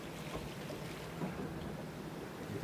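Sailboat running dead downwind wing on wing at about 7.5 knots in 13 knots of wind off the Alaska Panhandle, a steady wash of water and wind noise along the hull, soft and continuous with no voices.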